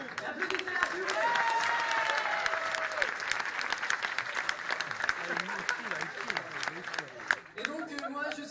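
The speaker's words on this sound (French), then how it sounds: "Et applaudissez-la s'il vous plaît." Audience applause fills a convention workshop room, steady dense clapping from a crowd with some voices rising through it, fading slightly toward the end.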